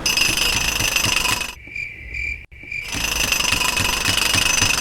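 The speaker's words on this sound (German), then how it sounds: "Bohren, meißeln." Loud, continuous mechanical drilling and chiseling into a masonry wall, steady and close, with a brief quieter pause in the middle before the harsh noise resumes.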